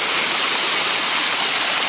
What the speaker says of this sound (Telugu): పైనుంచి వాటర్ ఫాల్ ఇదే వాటర్ ఫాల్ అండి